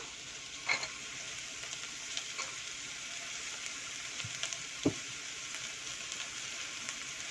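Black chana poured into a hot sizzling pot for a vegan Brussels sprouts pulao, a quiet steady hiss with a few sharp clinks and a soft thud of the beans landing, no voices.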